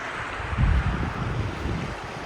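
The Virgin River flowing through Zion National Park, a steady, soft rushing wash with a low rumble that rises briefly and then holds even, with no voices.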